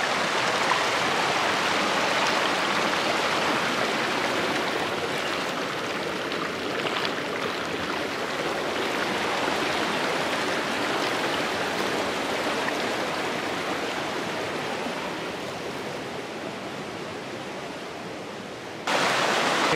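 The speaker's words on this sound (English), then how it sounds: "This is the Bear Creek crossing." Bear Creek rushing past a trail crossing on the Pacific Crest Trail, a loud, continuous broadband roar of flowing water heard up close, with no voices.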